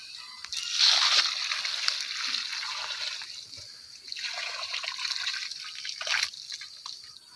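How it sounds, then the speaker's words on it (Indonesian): Liquid bioslurry fertilizer is poured over plants, making two close bursts of splashing and trickling with quieter dribbling between them. "pupuk yang saya berikan ini pupuk cair bioseluri. Di sini kita hanya menyiram."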